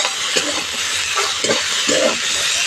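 Drumstick flowers being stirred in a hot pan, a constant loud sizzling hiss with several short scraping stirs of the spatula over it, close up.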